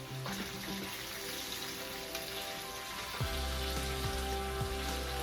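Ackee and saltfish cook gently in a pan on low heat, giving a soft, steady sizzle and crackle with a low hum running underneath.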